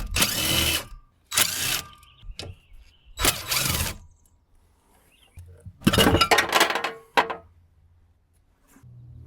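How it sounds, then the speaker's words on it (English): Metal clanks and rattles come in several loud bursts as the cover is pried off an air compressor being scrapped, with short quiet gaps and a low hum between them. "I'm just going to go ahead and pull this cover off to get this oil out faster."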